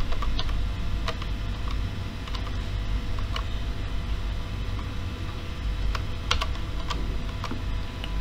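Computer keyboard being typed on to enter a CA number for an online BSES low-voltage complaint, with steady irregular close clicks of keystrokes over a low background hum and no talk.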